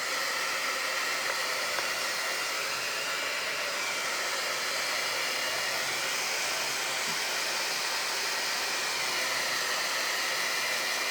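Steady hair dryer blowing continuously at close range while drying a scuffed-edge craft project, a loud, even broadband whoosh with no pauses and no talking.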